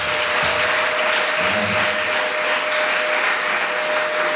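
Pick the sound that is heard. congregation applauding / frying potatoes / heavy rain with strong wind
congregation applauding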